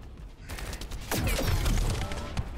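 Bursts of automatic gunfire in the video game The First Descendant during a boss fight, loud and close, with a heavier sustained volley in the second half.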